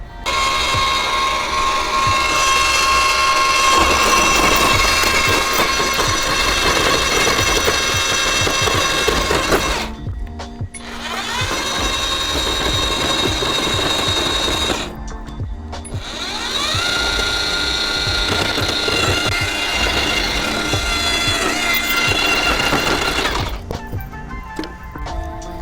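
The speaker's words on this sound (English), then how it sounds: "No, it's a one-man auger." A one-man earth auger grinds into the soil for an urban garden bed, a loud, steady motor drone broken by two short pauses and a drop-off near the end.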